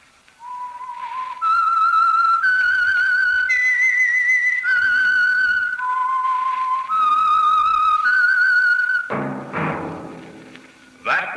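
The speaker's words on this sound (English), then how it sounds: "That whistle is your signal for the Signal Oil program, The Whistler." The whistled theme of the radio show The Whistler: a clear, sustained melody, several held notes stepping up and down, loud and close, ending in a brief burst of musical noise.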